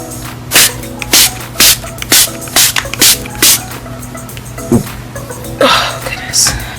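A series of short, close bursts of makeup setting spray, about eight in a rapid rhythm, followed by a couple of softer mists and some quiet breathing.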